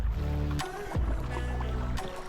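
A kayak is paddled on open water during a fishing tournament: close strokes splash and swish in a few quick pulls, with a faint watery wash between them.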